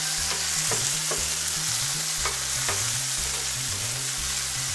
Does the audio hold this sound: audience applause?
no